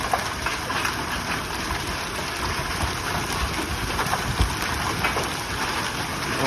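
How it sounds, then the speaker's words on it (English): Large coin-sized hail pelting down in a violent storm, a dense continuous roar of hailstones hitting surfaces, steady and loud throughout with no voices. "That's toonie sized hail."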